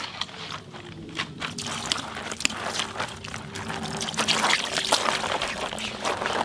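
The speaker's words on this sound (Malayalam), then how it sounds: "ഇച്ചിരി വെള്ളം ഒഴിക്കാം." Water is poured and trickles steadily while fresh fish are being cleaned, a continuous splashing stream close by with brief knocks and no talking.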